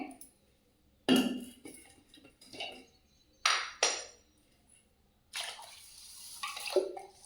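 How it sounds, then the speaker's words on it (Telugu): Several bursts of water pouring over rice in a metal pot, with clinks and clatter between pours, close and moderately loud. "ఇప్పుడు కొన్ని వాటర్ పోసి పక్కన పెట్టేయాలి"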